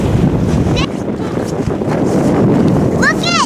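Strong, cold wind roars and buffets the microphone outdoors on a frozen winter day, continuous and loud, with brief high-pitched squeaky calls near the end.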